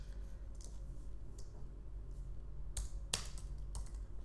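Quiet typing on a computer keyboard, a few scattered soft key clicks, then a couple of sharper taps near the end over a low background hum.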